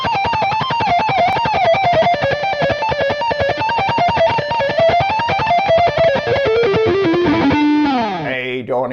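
Fast, distorted electric guitar plays an instrumental interlude in rapid alternate-picked melodic runs, a continuous flurry of notes, loud and close, ending with a sliding descent.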